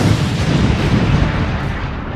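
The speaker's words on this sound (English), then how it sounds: "I heard a mighty explosion" A mighty gunpowder explosion sets off a loud, continuous roaring rumble that fills the whole clip with dense, steady force and no clear single bang.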